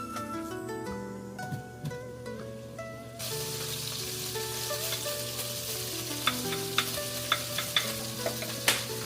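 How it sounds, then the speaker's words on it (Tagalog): Garlic and onion sauté in a pan with a steady hiss that swells in partway through, broken by a few sharp utensil taps, while background music plays throughout. "Mag-gisa na tayo ng bawang at sibuyas."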